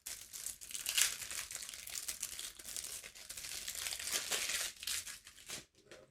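Codenames Pictures spymaster cards, grid-printed game cards, being handled, giving a steady crinkling, rustling crackle of card and plastic wrap that runs nearly continuously at close range before stopping near the end.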